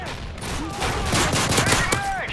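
Gunfire in the video game Modern Warfare 3 survival mode on a village map: a dense burst of rapid shots and rattling automatic fire, with faint voices underneath.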